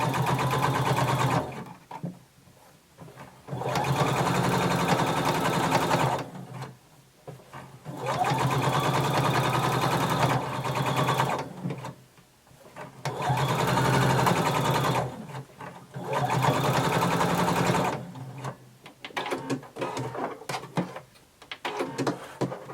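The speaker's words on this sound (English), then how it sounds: "we're going to understitch, sewing on the lining about 1/8 of an inch away from our seam." A sewing machine understitches a garment lining, running in five or six steady whirring bursts separated by short pauses, close and clear with no talk.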